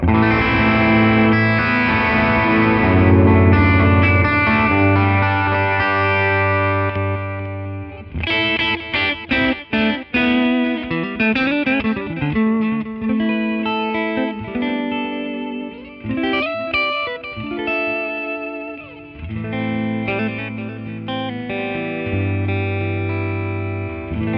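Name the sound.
deep clean guitar chord from plug-in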